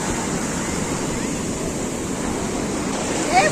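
Steady rushing surf fills the whole clip, a broad continuous wash of breaking waves with a slight swell near the end.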